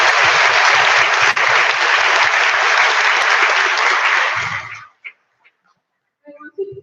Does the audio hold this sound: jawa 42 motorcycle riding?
no